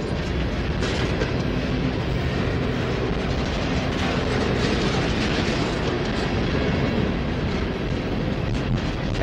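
A freight train rolls steadily past nearby, with gondola cars rumbling and clattering over the rails in a continuous loud roar throughout.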